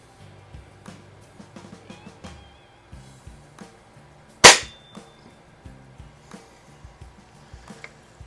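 A single sharp air rifle shot cracks out nearby mid-clip during a target match between a Crosman 3100 and a Feinwerkbau 124 springer, surrounded by quiet handling clicks and soft movement noise.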